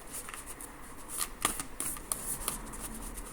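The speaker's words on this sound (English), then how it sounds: "So these are not very easy to shuffle" Oracle cards being shuffled by hand, a quick run of crisp papery riffles and soft slaps with a sharper snap near the middle, close and moderately quiet with no talking.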